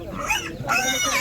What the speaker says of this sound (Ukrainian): Ось такі також свинки, бачите, це гарно.